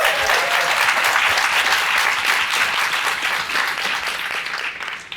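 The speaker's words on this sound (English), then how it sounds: "let's give our cheerleaders another round of applause" School audience applauding cheerleaders at a library renovation reveal, loud, full applause that stays strong and then starts to taper off at the very end.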